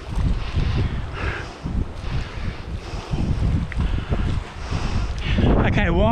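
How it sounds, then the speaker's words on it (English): Outdoor wind buffets the microphone in a steady loud roar with gusty low rumble throughout, and a voice speaks briefly near the end. "Okay, wind."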